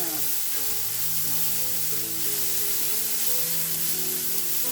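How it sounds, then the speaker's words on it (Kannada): Continuous bright sizzling of onions frying in hot oil, steady and close, with a faint tonal hum running underneath. "ಈರುಳ್ಳಿ ಕೂಡ ಹಾಕೋಣ ಈರುಳ್ಳಿನ ಸ್ವಲ್ಪ ಕೆಂಪಾಗಬೇಕಲ್ಲ ಸ್ವಲ್ಪ ಕೆಂಪಾಗೋ ತನಕ ಹುಡ್ಕೋತೀನಿ"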